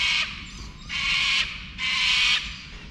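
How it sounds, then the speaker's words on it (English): Cockatoos outdoors in Australia give three loud, harsh screeching calls, each about half a second long and evenly spaced, with no talk. "here come the cockatoos."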